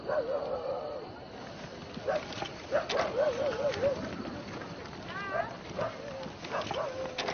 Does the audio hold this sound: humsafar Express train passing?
no